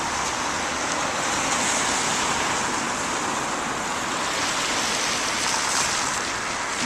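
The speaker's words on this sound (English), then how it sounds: "as we saw a bus go by now" A bus passes over the High Level Bridge on Newcastle's Quayside, a steady broad rumble and whoosh of traffic that holds at a constant loudness for the whole stretch, with no speech.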